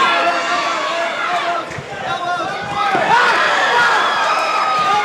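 A crowd at an Extreme Fighting Championship MMA event in an Indianapolis saloon roars and cheers continuously, a loud, dense wash of voices that dips briefly and then swells again.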